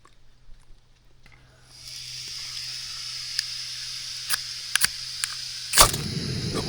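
Steady hiss of salted fish frying in hot oil, with a few sharp pops and crackles and a loud burst of spattering near the end.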